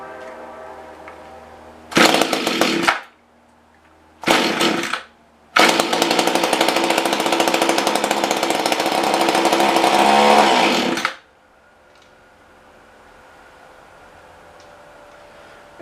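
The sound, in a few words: Mantis rototiller engine running and stalling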